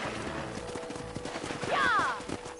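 Horse hooves clip-clop at a steady walking pace in the video game Red Dead Redemption, with a brief whinny rising over them and speech faintly underneath.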